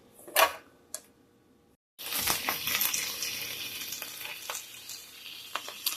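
A few light clinks, then vegetables hit avocado oil in a hot skillet and a steady, bright sizzle takes over, holding close and even with small pops scattered through it.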